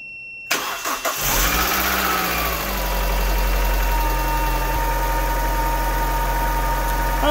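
Car engine cranked with an Autowit SuperCap 2 jump starter catches at once after a brief whir, then settles into a steady, loud, close idle with a low rumble and no talk.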